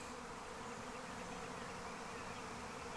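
A dense, steady drone of a honey bee swarm buzzing together around a pine tree, continuous and loud throughout, like a swarm hovering close by.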